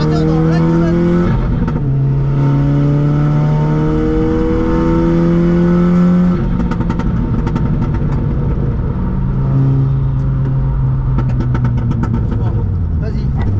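VW Polo GTI of 336 hp, brake held while the throttle is applied on a track day, engine droning and rising in pitch, loud and close, with people talking over it.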